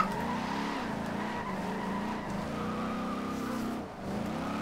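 Ford F100 pickup drifting in Forza Horizon 2, a continuous loud tire screech over a droning, revving engine, with one brief dip near the end and no talk.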